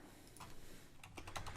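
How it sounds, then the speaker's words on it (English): Quiet typing on a computer keyboard, a short run of soft, rapid key clicks, faint and close, with no voice. "So now I'm going to just type in Carol."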